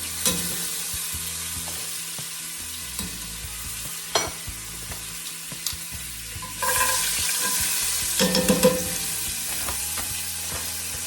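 Rabbit pieces brown in butter in a pan with a steady, fairly soft sizzle and a few utensil taps; partway through the frying surges louder and hisses more strongly.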